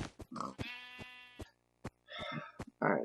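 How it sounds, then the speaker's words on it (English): Several sheep bleats from Minecraft, game sound effects: a few short, clear bleats separated by brief gaps, with a longer wavering bleat near the middle, close and fairly loud with no talk. "Sheep."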